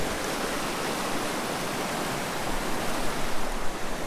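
Steady, dense rushing of a high, flooding stream beside a muddy forest trail near Greer, Arizona, a continuous close wash of water with no voices.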